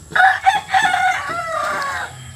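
A rooster crows once, close and loud, a single drawn-out cock-a-doodle-doo lasting about two seconds, heard alone against a quiet background.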